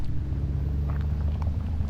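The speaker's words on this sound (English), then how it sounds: "So you get like a rumble from an exhaust." A Xiaomi SU7 Ultra electric car plays a simulated V8 exhaust through its rear speaker, a deep, steady low rumble that is loud and close throughout.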